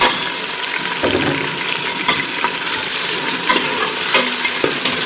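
Mutton pieces frying in a pan with light-browned ginger garlic paste, a steady close sizzle broken by scraping stirs and soft clinks, no voices.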